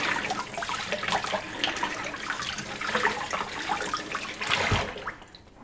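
Tap water streams steadily while a butternut squash is rinsed, a close, continuous splashing rush with small bursts as the squash moves under the flow, stopping at the end.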